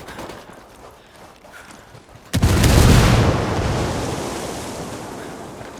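Grenade blast in a video game mission set in San Mateo: after a quiet stretch, a sudden loud boom erupts and a roaring rumble slowly fades over the next few seconds.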